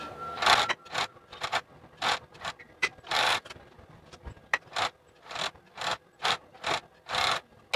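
An overlock sewing machine serges the cut hem of a child's school trousers in about a dozen quick mechanical bursts, each a close, rattling chatter separated by short pauses.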